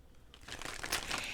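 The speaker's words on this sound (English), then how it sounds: "I've been shuffling these cards" Tarot cards shuffled by hand, a dense papery crinkle and flutter that builds after a brief quiet start and runs on steadily, close and fairly soft.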